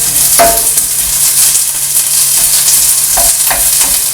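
Garlic and onion sizzle loudly in a pan for Filipino pork belly adobo, a close, steady hiss punctuated by a few brief stirring scrapes, with no voices.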